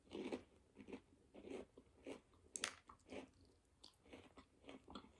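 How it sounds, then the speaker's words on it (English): Someone eats a crispy Applebee's onion ring up close, with soft crunching bites followed by steady, rhythmic chewing that continues quietly throughout and no talking. "I am going to eat my last onion ring, though."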